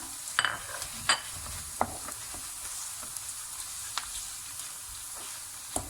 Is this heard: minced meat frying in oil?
yes